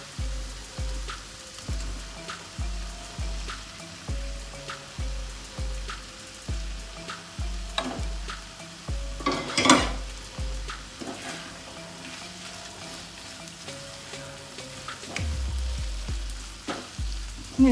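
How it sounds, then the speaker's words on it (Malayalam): Cooked bitter gourd frying in a pan of melted fat for a masala stir-fry, crackling sizzle with a steady run of rhythmic stirring scrapes and knocks, one louder hiss midway, no voices. "ഉരുകിക്കഴിഞ്ഞ് ഇതിനകത്ത് നമ്മളിപ്പോൾ ഈ വേവിച്ച് വെച്ചേക്കുന്ന പാവയ്ക്കയില്ലേ, അതിങ്ങോട്ട് ഇട്ട് കൊടുക്കേ."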